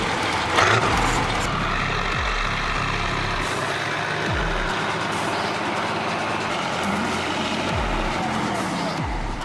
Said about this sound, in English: Kiravet's K701 rushed forward like a giant steel beast. The engine roared and shook the ground.